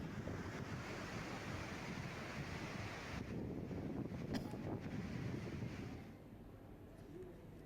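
Rain-swollen water pouring over the Hasnapur dam near Junagadh, a steady broad rushing roar that eases slightly toward the end, with no voices.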